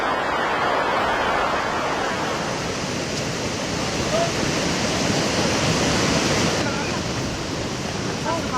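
A rain-swollen river in Sahastradhara rushes after a cloudburst, a steady broadband roar of churning water mixed with wind buffeting, loud and unbroken throughout.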